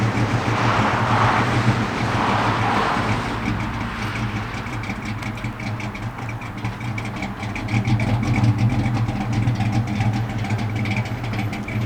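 A car circling laps on a quarter-mile track during a fuel-mileage test with a vaporizer fuel system, its engine droning steadily at moderate volume with wind noise, no talking.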